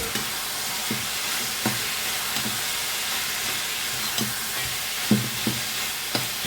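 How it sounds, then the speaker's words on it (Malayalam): Ivy gourd and browned onion fry in a pan with a teaspoon of turmeric, giving a steady sizzling hiss punctuated by regular, soft scrapes and knocks of a spoon stirring through. "മഞ്ഞൾപ്പൊടി 1 ടീസ്പൂൺ ഇട്ടു. ഒന്ന് ഇളക്കി ചേർക്കാം."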